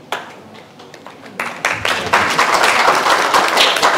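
An audience applauds at a talk on drug addiction symptoms: scattered claps at first, then swelling into dense, sustained clapping that stays loud to the end.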